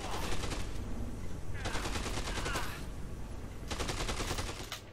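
Bursts of rapid automatic gunfire from the video game Dead Rising 2 come in three long volleys separated by short gaps, loud and close, with no talk over them.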